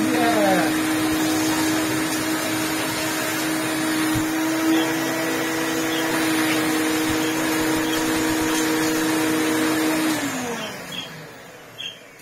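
Vacuum cleaner running steadily with a hose attachment, producing a loud, close, continuous motor drone with a whining tone that winds down near the end.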